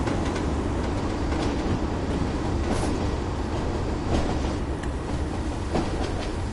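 A train runs steadily in Train Sim World, a loud, continuous rumble with rhythmic clickety-clack from the wheels and no talking over it.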